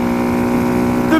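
A 2014 Honda Grom fitted with an aftermarket exhaust and Bazzaz tuner idling close by, a steady low droning engine note that rises slightly at the very end.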